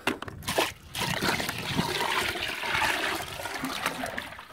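Water runs into a container for pet pigs: a couple of knocks and bumps at the start, then a steady close pour with trickling and light sloshing as the container fills.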